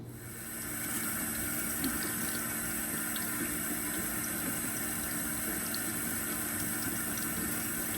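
Steady running water streams continuously from a tap over potatoes being washed, a constant even rush with no voices.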